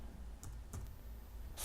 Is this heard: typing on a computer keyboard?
yes